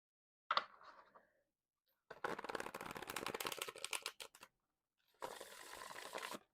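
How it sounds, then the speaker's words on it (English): A tarot card deck being riffle-shuffled by hand, a brief flutter of cards followed by a longer crisp riffling burst and then a second shorter riffle, close up with pauses between, no talking. "I can show you how it shuffles."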